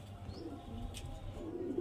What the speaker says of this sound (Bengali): এটা কিন্তু মাদি পায়রা